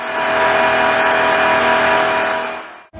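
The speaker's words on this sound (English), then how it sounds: "we are able to almost instantly rev the engine to any speed we want" A Ram 1500's 5.7 Hemi V8 with eTorque, running on a dynamometer, holds a steady high rev, a sustained roar with a strong tonal hum, then drops off abruptly near the end.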